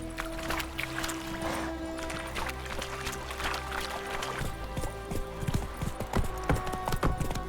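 Roach the horse's hooves clip-clop steadily on the ground in The Witcher 3, a close, continuous rhythmic clatter that grows busier and more irregular toward the end, with no talking over it.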